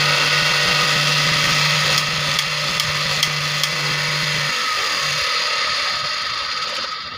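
A Bayou Ranch cloth cutting machine runs with a steady, loud motor whine and a low hum that cuts out partway through, joined by a few sharp clicks and rattles of mechanism, with no talking.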